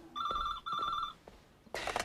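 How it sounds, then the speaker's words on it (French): A telephone bell rings in two clear trilling bursts, fairly close and loud, followed by a brief rustle and a sharp clatter as the phone is picked up. "Ah, désolé. Téléphone."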